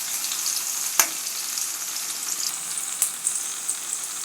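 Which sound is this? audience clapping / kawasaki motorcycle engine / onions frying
onions frying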